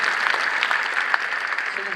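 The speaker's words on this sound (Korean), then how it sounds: "얼마나 부담이 돼서 박수를 치십니까?" Brief burst of congregational clapping inside a church during a revival service, moderately loud and steady for about two seconds.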